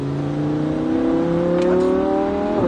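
Sports car, a Ferrari F8 Tributo or Lamborghini Huracan, accelerating hard on a race track, its engine note rising steadily and loud and close for the whole stretch, with no talk over it.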